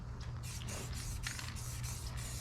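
Spray painting white paint onto an FMS Ranger model plane, a continuous close hiss of the sprayer with rhythmic pulsing bursts as the nozzle sweeps back and forth over a low background hum.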